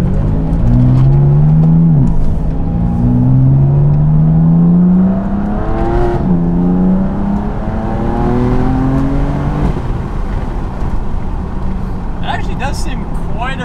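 A BMW F80/F82 M3/M4 twin-turbo engine with an aftermarket intake, pulling hard through rising gear sweeps with audible turbo whir, heard from inside the car while someone talks over it.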